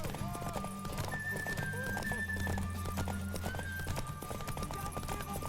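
Rhythmic clip-clop of horse hooves runs throughout alongside a neighing whinny, with game music and voices underneath, from The Witcher 3: Wild Hunt on PS5.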